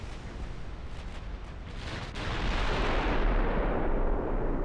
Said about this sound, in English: I want to send these in to sink the transports with the secondary guns.